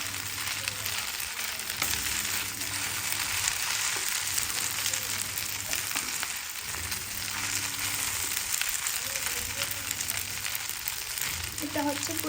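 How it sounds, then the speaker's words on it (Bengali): Kolson spaghetti noodles sizzle and fry in a pan while being stirred, giving a continuous, close and fairly loud crackle that lasts throughout. "ভালো করে আমি নাড়াচাড়া করে দিব।"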